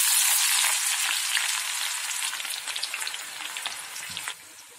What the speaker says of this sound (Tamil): வெங்காயம் நல்லா பொரியணும் இல்லையா.